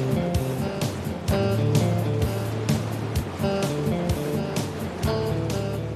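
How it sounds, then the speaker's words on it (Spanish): The Dudh Kosi, a mountain river in the Everest region, rushes as a loud, continuous torrent, with dense broadband roar and repeated heavy surges throughout. Music plays under it and no voices are present. "el tronar del agua más amenazador"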